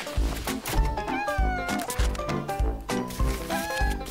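Cartoon kitten meowing in short bright cries over bouncy, rhythmic music, no speech.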